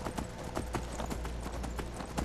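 A horse's hooves clop steadily and quickly as it runs up a mountain in Skyrim, an even close rhythm of hoofbeats with no talking.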